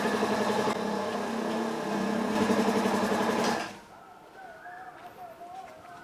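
A restored air compressor runs close and loud with a steady mechanical drone as it builds pressure, then cuts off abruptly, leaving a quieter hiss with a faint rising whine.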